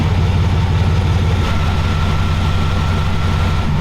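A scrap yard Chevy engine fitted with a cam idles roughly and loudly, its low, lopey pulsing rumble steady and close for the whole stretch, with no talking.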